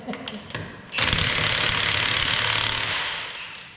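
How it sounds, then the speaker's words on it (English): A Milwaukee impact wrench at max torque breaking nuts loose on used boots, a loud sustained hammering burst of about two seconds after a few quieter clicks, close by. "There, they're all broke loose with the Milwaukee."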